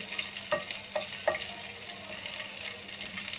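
Cumin seeds sizzling in heated oil in a pan, a soft continuous frying hiss with a few small crackles and pops early on, fairly quiet and close, no talking.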